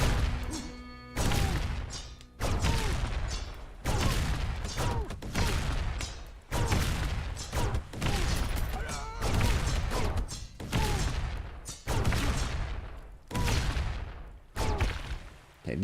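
Sniper towers fire in Emberward, a tower defense roguelike game: a steady sequence of loud, heavy booming shots about once per second, close and dense, with no talking.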